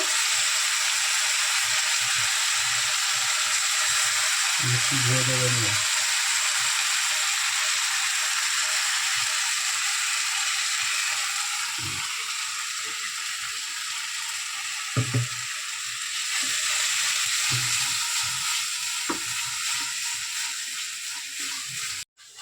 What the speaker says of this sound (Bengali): সব একসাথে দিয়ে এবারে ভালো করে কষিয়ে নেব।